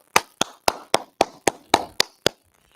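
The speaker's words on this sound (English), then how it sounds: "clap it up" Nine sharp hand claps in a steady, evenly spaced rhythm at an Atlanta brotherhood class gathering, close and crisp with nothing else beneath them.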